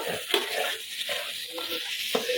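A spoon stirs brinjal with ginger garlic paste in a sizzling frying pan, scraping in several short strokes over a constant frying hiss, close and alone.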